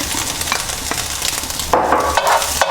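A metal spatula scrapes and stirs scrambled fried egg around a hot wok with vegetable oil, making close, steady scraping and sizzling, with a few sharper metallic scrapes near the end.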